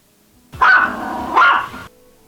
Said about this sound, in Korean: 그날 밤부터 개들이 짖기 시작했답니다.